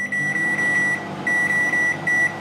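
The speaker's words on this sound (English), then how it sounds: "Let's get it in the microwave." An 800 watt microwave oven beeps as it is started, giving steady high electronic tones in three repeated bursts with brief gaps, fairly loud and close with no talking.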